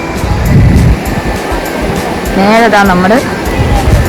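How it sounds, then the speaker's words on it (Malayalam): Sea waves roar steadily against a rocky shore along a cliffside path at Kappil Beach. The continuous surf rumble is heard beneath a person talking close to the microphone. "ആ കടലിൻ്റെ ഇരമ്പൽ സൗണ്ട് നിങ്ങൾക്ക് കേൾക്കാൻ പറ്റുമല്ലോ"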